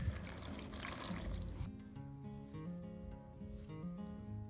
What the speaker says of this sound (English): once the water saturates the seams, you'll see it start to drip out